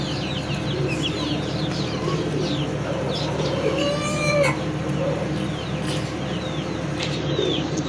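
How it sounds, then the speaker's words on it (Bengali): Chickens cluck and pigeons coo in the background, with faint bird chirps scattered over a steady low ambient hum; no one speaks. "আমার নিচে যে কিছু কবুতর আছে আর মুরগি আছে"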